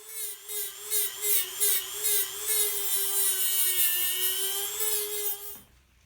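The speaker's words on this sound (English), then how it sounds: "To fine-tune the shape of the volute, I use my Dremel motor tool with a flap sanding disc" A Dremel rotary tool with a flap sanding disc shapes the wooden volute of a seven-string guitar neck, a close, steady high-pitched whine that pulses slightly with each pass before cutting off abruptly near the end.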